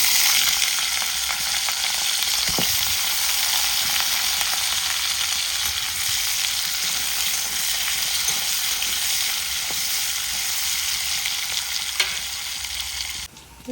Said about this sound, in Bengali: এখন এর মধ্যে এই যে আলু কুচিগুলো দিয়ে দেব।